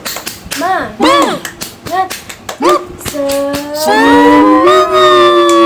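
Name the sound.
schoolchildren's rhythmic 'tepuk semangat' clapping chant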